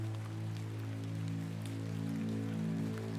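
Steady rain patters down in a Lovecraftian horror game, a soft even wash of drops over a low humming drone, with no voices.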